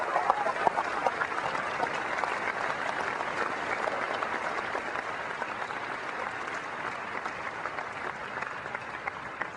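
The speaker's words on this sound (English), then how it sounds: "I would like to ask you to give me a round of applause for their families" A large audience at Apple WWDC 2001 applauds steadily in a big hall, a sustained wash of clapping that holds for the whole stretch and fades only slightly.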